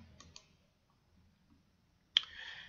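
Computer mouse clicking in software: a couple of faint clicks at the start, then a sharper single click near the end followed by a brief soft whir, quiet and close, no talk.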